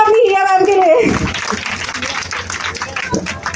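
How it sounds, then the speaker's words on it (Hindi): School audience at an Independence Day event breaking into applause for a young teacher, a dense burst of clapping that follows a spoken voice and carries on steadily. "तालियां बजाओ अपनी हिया मैम के लिए"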